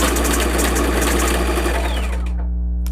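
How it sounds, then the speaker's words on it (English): Multi-needle embroidery machine stitching a hoodie sleeve, a rapid mechanical rattling hum at close range that runs steadily, then cuts off near the end leaving a low motor tone. "I am going to hit start and it's going to start stitching with needle number 3"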